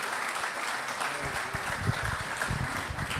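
A crowd at a book-talk event applauds a local administration, the clapping even and moderately distant, continuing steadily for a few seconds at low volume.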